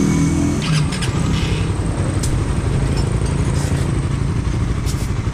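A motorcycle engine idles and runs close by in a steady, loud, even rumble for several seconds with faint clatter on top and no talking.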